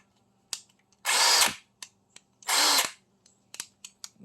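Bauer 20 volt cordless impact wrench firing two short, loud bursts of about half a second each, with small clicks and handling taps between them.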